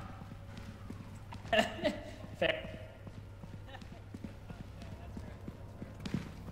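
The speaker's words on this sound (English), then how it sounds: "why are you running him like a horse?" Galloping horse hooves in the video game Content Warning, a few quick clip-clop impacts in short bursts, moderately close, heard under people talking over faint background hum.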